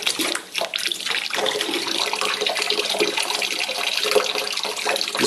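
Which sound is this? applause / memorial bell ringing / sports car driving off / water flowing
water flowing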